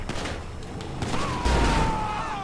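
Gunfire and booms in the video game GTA V, a quick burst of shots with a heavier low crash near the middle, loud against busy game sound.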